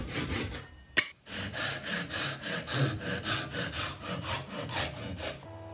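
A hand saw cuts through a firewood log in steady back-and-forth strokes, each stroke a close, rasping pass with a brief pause near the start and no voices.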